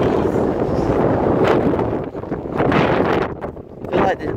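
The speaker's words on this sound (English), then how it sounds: "My god, it's windy." Strong outdoor wind buffets a phone microphone on a tripod, producing a constant loud low roar and rumble that swells and dips throughout.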